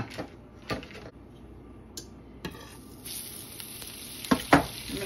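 A pat of butter melting and sizzling in a hot pan beside cooking bacon for a farm breakfast, a soft hiss that brightens midway, with light clinks of cookware near the end.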